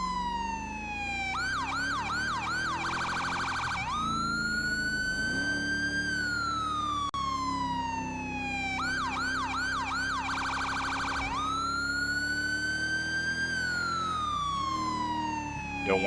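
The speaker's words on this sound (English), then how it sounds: "Don't want to outrun my siren." A police siren wails steadily and loudly in GTA 5 roleplay, rising and falling in long sweeps with bursts of rapid yelping warble, running continuously with no talk over it.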